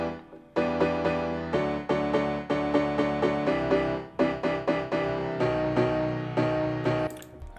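Chopped synth chords from a future house verse in FL Studio play in rapid, rhythmic stabs with repeated pumping attacks, bright and dense, continuing for several bars without any voice.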